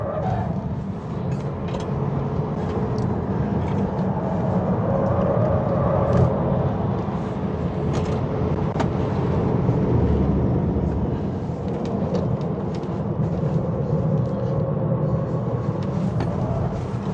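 A Tesla Model 3 on a race track, with a continuous loud roar of motor and road and wind noise heard from inside the car as it pulls hard out of a corner, with no talking.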